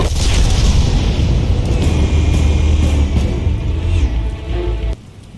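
Explosives detonating in a Batman video game: a sustained loud, deep rumbling blast with crackling debris that rolls on for several seconds before abruptly dropping away.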